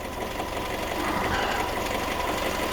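A Fiat 500 with a 1.2 engine idles steadily, a continuous close mechanical hum with light ticking and no voices over it.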